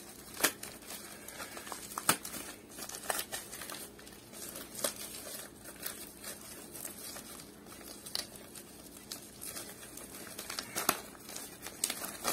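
Packaging crinkles and rustles quietly and close by during unpacking, with irregular sharp crackles and crumpling bursts spread across the whole stretch and no talking.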